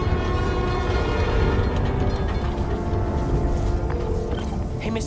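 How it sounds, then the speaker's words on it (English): A New York subway train in the video game Marvel's Spider-Man: Miles Morales rumbles loudly and continuously, a dense steady roar of wheels and rail noise throughout. "Trusty New York subway."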